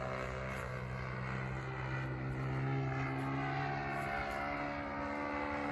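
A radio-controlled model airplane from a favorite kit, fitted with a hobby-shop engine and flown wide open, whines steadily and evenly throughout at moderate distance, with no talking.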